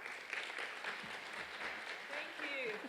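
Audience applause at a clinical research and engagement conference, a moderate steady patter of clapping from a seated crowd, fairly distant and soft, with a voice briefly rising over it near the end.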